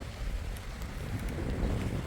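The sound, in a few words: wind blowing at a beach resort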